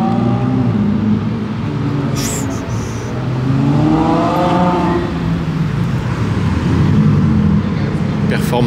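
Ferrari 488 Pista Performante Spider engine revving on a Monaco street, a loud throaty roar that rises and swells, heard close amid traffic noise, with someone talking excitedly over it.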